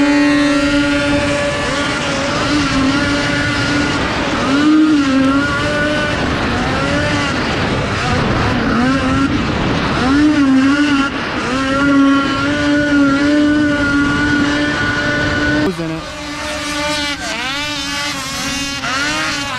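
Several 2004 Ski-Doo REV snowmobiles, including modified sleds, race a hillcross open heat, their two-stroke engines droning and revving steadily throughout, loud and close, with pitch rising and falling as they climb the course.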